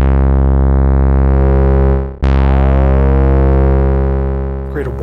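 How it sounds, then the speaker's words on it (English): A sustained, buzzy synth tone runs through an overdriven Verbos filter module on a Eurorack system, holding steady with a brief dropout and sharp re-attack partway through, then a gritty noisy flourish near the end; loud and close, no talking. "A filter that I can happily overdrive."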